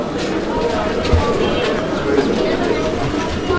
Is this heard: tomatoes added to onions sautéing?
no